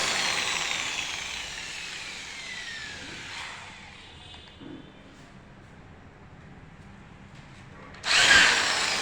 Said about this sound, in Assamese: এইকাৰণে আমি প্ৰফাইল লাইটৰ চেনেলটো স্ক্ৰু মাৰি তাত লগাই আছোঁ